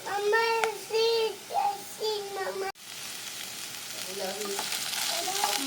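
French beans frying in a pan for Indian-style veg fried rice: a voice talks over the first half, then a steady, close sizzle fills the rest and grows slightly louder toward the end.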